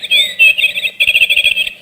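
A cheap one-euro toy imitates birdsong with a bright, warbling, trilling chirp, loud and near, in two quick bursts.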